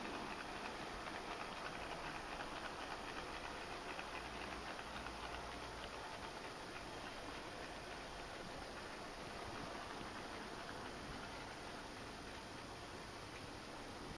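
A steam locomotive pulling five carriages passes close by, giving a steady, loud rumble of running train and rail noise that lasts throughout with no voices.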